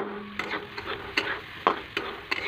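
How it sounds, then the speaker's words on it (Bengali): Vegetables frying in a home kitchen pan as pasta is readied, with a spoon stirring in short scraping strokes roughly every half second over a soft background sizzle, close and fairly quiet. "এখন এভাবে একটু ভাজবো, ভেজে ভেজে জিনিসটা একটু লাল হবে তবে দিব পাস্তাটা।"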